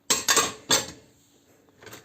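Ceramic plates and dishes are handled at close range in a home kitchen, giving three quick clattering knocks in succession, a pause, then a fainter clink, with no voices.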